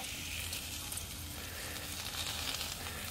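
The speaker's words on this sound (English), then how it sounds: "We'll put our steak on." Steak sizzling in a Firebox 5-way bushcraft Dutch oven at a camp cookout, a steady faint hiss and crackle with no talking.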